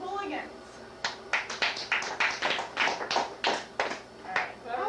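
Sparse audience clapping at a stand-up comedy show: a small crowd claps in short, uneven bursts of distinct hand claps, fairly close, with a voice heard briefly at the start.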